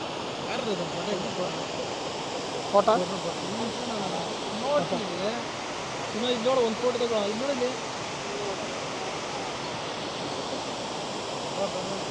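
Steady broadband rushing of the distant Barachukki waterfall fills the scene, with a few people talking faintly in the background.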